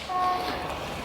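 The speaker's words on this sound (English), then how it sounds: "I think that was a train beeping off in the distance." A distant train horn sounds faintly over a garden backdrop, two thin sustained tones held briefly before fading into steady outdoor ambience.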